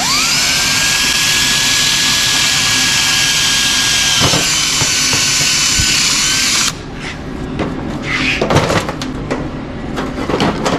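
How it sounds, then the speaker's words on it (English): A power drill whines steadily at high speed, boring a hole in metal for a hidden fuse box bracket during an LS swap, loud and continuous for several seconds before cutting off into lighter handling clatter. "Drill our hole."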